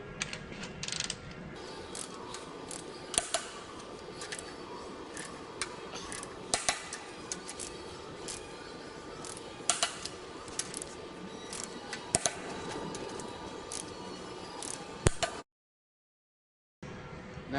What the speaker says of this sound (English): Make sure that we torque them evenly.